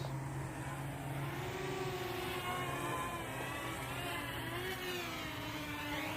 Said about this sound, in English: Seems like it takes a lot of throttle to get it lifted up though.